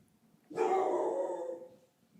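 A pet dog named Emma gives a single drawn-out bark, close and loud, rising abruptly after a quiet moment and trailing off over about a second, with no talking.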